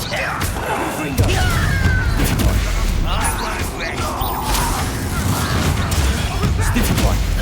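The Confringo fire curse goes off in the wizarding game Hogwarts Legacy amid a spell duel, with bursts of crackling impacts and thumps over a rumbling low background. Voices shout through the fight.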